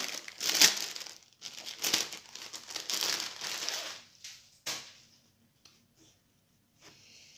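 Transparent plastic wrapping around a cross-stitch canvas being handled, with loud close crinkling and rustling for several seconds that fades to a few faint rustles.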